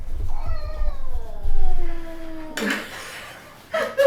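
Pet cats meow indoors, one drawn-out descending mewl followed by shorter, harsher cries, close and fairly loud, with a bit of low background noise and voices nearby.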